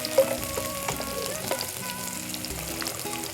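A crepe sizzles and fries in a hot pan, a steady, soft crackling hiss with small pops, close and fairly quiet, with no talking.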